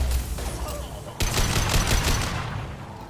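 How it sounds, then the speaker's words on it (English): Sustained gunfire from the Mass Effect 2 Legendary Edition shooter during a Collector Ship mission, loud and dense, a continuous fusillade of rapid shots with a sharp burst of heavier firing partway through, no talk over it. "Taking heavy fire."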